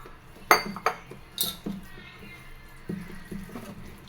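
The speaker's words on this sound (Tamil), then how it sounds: "தயிரை ஃபஸ்ட்டு நல்லா கொலன்னு மிக்ஸ் பண்ணிடுங்க." A spoon scrapes and clinks against a bowl in a few sharp strikes, then softer stirring as curd rice with salt and water is mixed, close by, with no talking.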